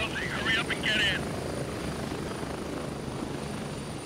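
Constant low whirring drone of a helicopter rotor in Gray Zone Warfare, close and steady throughout, with a brief high chirping sound near the start.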